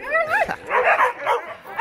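Large wolf dog whimpering in high, wavering whines followed by several short yips and barks, close by, with a person speaking over part of it.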